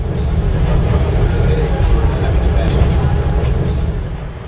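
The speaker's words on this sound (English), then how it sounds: "if you are visiting Hong Kong, you'll want to take a ride on the subway." A Hong Kong subway train runs with a loud, steady low rumble throughout and eases slightly toward the end.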